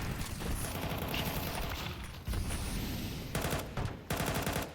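Gunfire and a flashbang in the video game Counter-Strike on the Dust 2 map, a dense, continuous, loud barrage of rapid shots with a few sharper bursts toward the end, with no talking.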